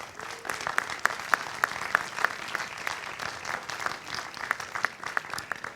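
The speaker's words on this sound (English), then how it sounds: "would you also give them a round of applause?" A commencement audience applauds students' supporters, a steady wash of many hands clapping at moderate distance, fairly soft, with a few sharper nearby claps standing out.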